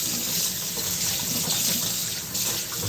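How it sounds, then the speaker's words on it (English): Hot tap water pours into a kitchen sink over dirty, oily dishes, a loud, close, continuous splashing rush that shifts a little as the flow hits the dishes, with no voices. "This one's got just a lot of oil in it, so the hot water is going to clean them out pretty good."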